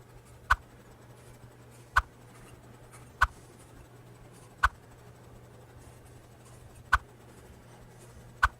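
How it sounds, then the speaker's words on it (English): Knife cutting X's into cored tomatoes for homemade tomato sauce, six sharp, quiet taps spaced about a second apart against a low, steady background hum. "We're just going to finish cutting the X's real quick."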